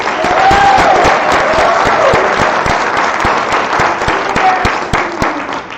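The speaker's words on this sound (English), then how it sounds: "Let's get another round of applause for our musicians." An audience at a community poetry reading applauds the musicians, with steady, dense clapping from a sizable crowd that stays loud throughout and fades only slightly toward the end.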